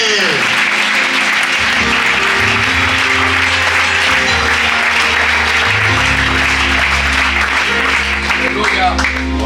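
A church congregation claps loudly and steadily throughout, with dense sustained applause layered over low, held musical tones.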